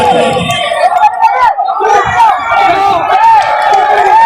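A loud, close crowd yells and cheers at a tug-of-war match in Jeddah, with overlapping shouting voices surging continuously through the short stretch.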